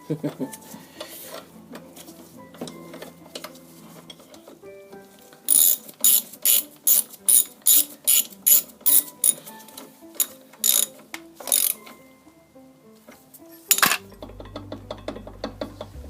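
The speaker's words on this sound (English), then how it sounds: "I've got to do this top one up by mostly hand and then on a spanner" A spanner working the fork top cap on a Honda Deauville motorcycle fork, with a burst of rapid metallic ratcheting clicks in the middle among scattered clinks and handling noises.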